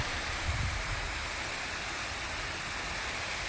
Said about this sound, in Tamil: பாருங்க சப் மோட்டரில் எப்படி தண்ணி விழுதுன்னு பாருங்க